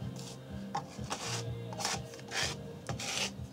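Excess capsule powder is scraped off a Chinese-made CN-100 capsule filling machine into a tray, giving repeated rasping, rubbing strokes in short bursts, close and moderately loud, with no talking.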